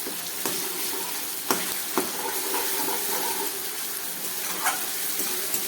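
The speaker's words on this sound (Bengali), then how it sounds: "এবার খুব ভালো করে এটাকে আমি কষিয়ে নিচ্ছি, গ্যাসটা কম করে।" Garlic, onion paste and four green chilies fry in a pan over low gas, a steady close sizzle with a few sharp clinks of a spatula scraping the pan.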